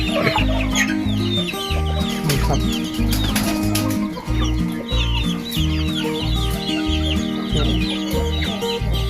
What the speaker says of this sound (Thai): เดี๋ยวจะมาให้อาหาร ให้อาหารไก่กันนะครับ